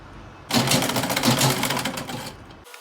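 A sewing machine stitching an organza ruffle sleeve runs in one short burst of rapid, even clattering for about two seconds, close and fairly loud, then stops abruptly.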